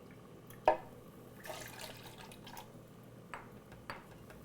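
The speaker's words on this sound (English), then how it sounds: "And we're going to put in 1/2 cup of water." Half a cup of water is poured into a blender, giving soft, close splashes and drips, with a brief trickle in the middle and a few small drops afterward.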